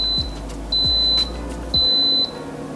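An Instant Pot electric pressure cooker beeps three times, each a sustained, clear electronic tone of about half a second, evenly spaced above a steady background hum.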